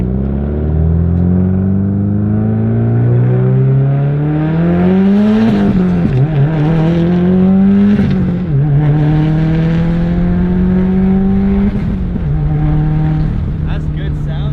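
Car engine rumbling at low RPM, then revving up and easing back in several rising sweeps. It sounds loud and close, with a steady deep drone underneath.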